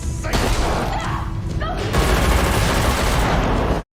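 Heavy bursts of gunfire fill a film shootout in which a handler shoots an assassin; loud, dense cracks and booms run continuously for about four seconds, then cut off abruptly.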